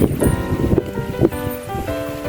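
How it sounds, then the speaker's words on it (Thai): Strong wind buffets the microphone in loud, uneven gusts outdoors, a constant roaring rumble with fluctuating swells throughout, with no clear talk. "วันนี้ลมแรงมากนะครับ"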